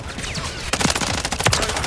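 Rapid bursts of automatic gunfire in a video game, closely spaced cracks clustering into dense volleys in the second half, loud and close with no talking.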